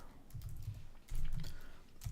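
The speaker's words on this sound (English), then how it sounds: "I'm going to type in C#" Quiet typing on a computer keyboard: a soft run of key clicks, then a brief pause and a second, slightly louder flurry of keystrokes, heard alone.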